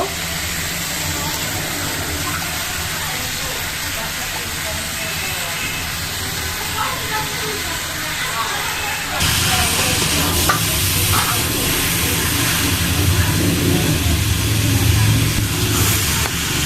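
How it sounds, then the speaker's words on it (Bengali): Scrambled eggs sizzle and get stirred in a frying pan with soy sauce, a steady close crackle and scraping that grows louder partway through, while a person speaks over the cooking. "এখন আমি ঝুড়ি করার ডিমগুলো দিয়ে দিব"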